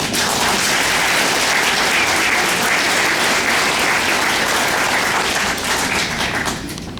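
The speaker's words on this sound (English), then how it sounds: "We need to give all of our graduates a big round of applause right now." Large audience of a few hundred gives a loud, sustained round of applause for college graduates at a Red Lake Nation College graduation ceremony, dense clapping that tapers slightly at the end.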